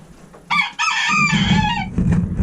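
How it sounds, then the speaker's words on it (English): Chickens in a snowy homestead pen give a loud, close rooster crow, broken by a short gap, with hens clucking and murmuring steadily underneath through the rest of the moment. "And then these chickens in here."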